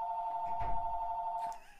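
Telephone ringing during a devotional gathering, a single steady electronic ring tone held for over a second before cutting off, with a faint bump of room noise.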